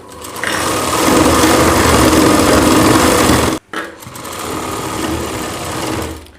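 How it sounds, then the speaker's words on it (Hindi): A sewing machine stitches the seam of a kanchli, the bodice of a Rajputi suit, running loud and steady for several seconds, stopping abruptly, then starting up again and running continuously. "इस तरीके से हमें यहाँ पे ऐसे सिलाई लगा देनी है।"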